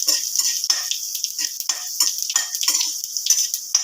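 Curry leaves, chana dal, cumin and mustard seeds for upma crackle in hot oil, a bright close spitting sizzle with rapid irregular pops and a few ladle scrapes, no talk.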